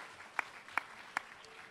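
Three crisp, evenly spaced hand claps ring out faintly at a Marathi devotional gathering with a preacher, sparse rather than a full crowd ovation, over a quiet room.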